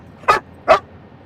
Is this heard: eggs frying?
no